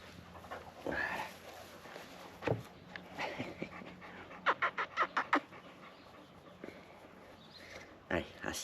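A small dog pants near a car workshop, giving quick rhythmic bursts of breath broken by short pauses, with a voice speaking over it.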